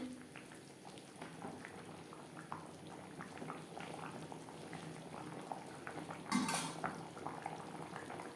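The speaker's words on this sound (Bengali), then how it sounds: "গ্রেভির সাথে মাছ আরও তিন চার মিনিট রান্না করব" Koi fish simmering in a spice gravy, a quiet low bubbling burble with small clinks of utensils and one brief louder clatter near the end, no speech.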